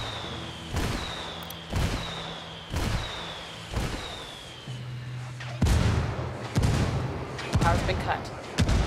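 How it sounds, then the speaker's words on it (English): Rebel indirect artillery fire in Ghost Recon Wildlands: a series of about eight shells, each a falling whistle ending in a heavy boom, spaced roughly a second apart and growing denser and louder toward the end. "I called the rebels for some indirect fire."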